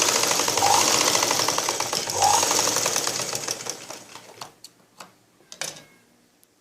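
A sewing machine stitching a blouse hem runs in a fast, rapid ticking stream, then slows into short separate bursts and single clicks as the stitching stops and starts.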